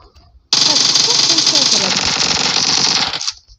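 An Uzi submachine gun in PUBG Mobile fires a long, loud continuous burst lasting about three seconds, dropping out abruptly, with a voice talking faintly underneath.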